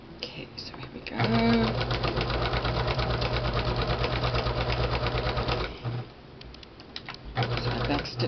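A sewing machine runs a long straight stitch on lace, a close rapid mechanical chatter that starts after a second, runs steadily, pauses briefly and restarts, while a person talks over it.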